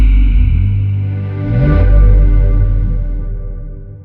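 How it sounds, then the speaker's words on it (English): The BBC's sonic brand audio logo, a rich layered synthesized chord that swells smoothly toward a bright peak midway, then slowly recedes, loud and alone over about four seconds. "This is the sound of the BBC."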